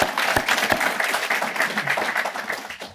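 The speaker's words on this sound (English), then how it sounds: "Do another round of applause." Crowd applause at an Executive MBA graduation ceremony in Mumbai, a steady patter of many hands clapping with a few sharper claps standing out, moderately loud and continuous.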